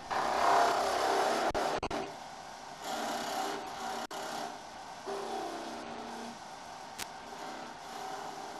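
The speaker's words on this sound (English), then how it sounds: "Turn the lathe back on." A wood lathe spins steadily while a small finial is cut near the end of a project, giving a continuous broadband whirr and rasp with brief interruptions and changes in tone, close and even in loudness.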